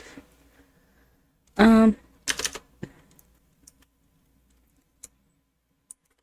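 A short burst of keyboard typing, a few clustered key clicks followed by scattered single taps, close and fairly clear, with a quiet room around it.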